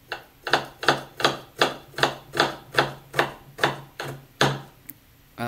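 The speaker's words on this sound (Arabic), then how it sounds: "نقطع البصل إلى مكعبات صغيرة" A knife dices onion into small cubes on a cutting board for Yemeni fahsa, giving about eleven crisp, evenly spaced chops close up with no talk.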